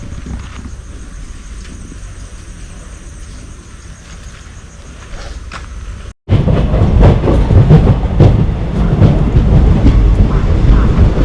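A Matsyagandha Express train on the Konkan Railway passes loud and close after a quieter stretch of steady rumble, the second half a dense roar of wheels and carriages with rhythmic clatter and no talk.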